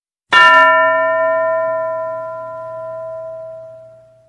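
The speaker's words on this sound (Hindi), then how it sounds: "घंटी बजेगी तब टीचर जी किसी एक बच्चे को खड़ा करेंगे।" A single struck school bell ringing once, a bright metallic clang with a long, steady ringing tone that fades slowly over about four seconds, clear and alone.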